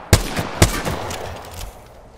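The Wingman pistol in the Apex Legends game fires two sharp, loud shots about half a second apart, each followed by a short, echoing tail.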